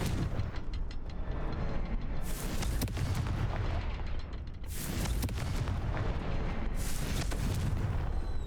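Repeated Confringo fire-spell explosions in the Hogwarts Legacy video game, several loud booming blasts with crackling bursts over a dense, rumbling combat soundscape.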